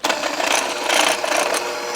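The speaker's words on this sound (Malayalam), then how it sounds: "ഇനി വേഗം വിപ്പ് ചെയ്തെടുക്കാം നമുക്ക്." An electric mixer whips cream for homemade ice cream, a steady close whirring buzz with a slightly fluttering texture that runs throughout.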